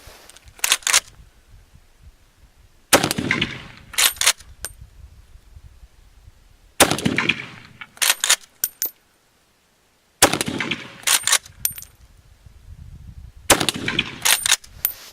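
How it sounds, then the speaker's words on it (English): Five loud .308 rifle shots from Remington Core-Lokt and Hornady Custom LITE loads fired outdoors, each a sharp blast spaced a few seconds apart, some followed by quick clicks and shuffling between shots. "so we're going to shoot the heavy recoiling stuff first"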